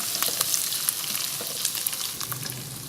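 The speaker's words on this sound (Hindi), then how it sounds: "इसको लाइट गोल्डन होने तक फ्राई करें।" Food frying in a pan for a keema pulao, a dense continuous hiss of sizzling oil with crackling pops scattered throughout.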